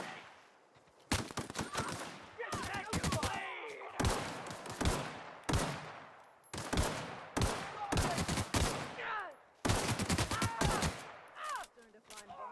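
Sharp gunshots crack in repeated bursts during a firefight in the video game The Outer Worlds, loud and close, with short pauses between volleys and echoing tails.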